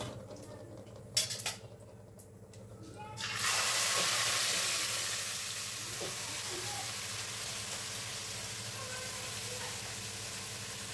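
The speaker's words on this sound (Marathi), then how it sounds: "आता टाकते याच्यात कांदा" Chopped onion goes into hot oil already seasoned with cumin seeds and asafoetida, bursting into a loud, steady sizzle that holds for several seconds. A few clinks of a utensil against the pan come just before it.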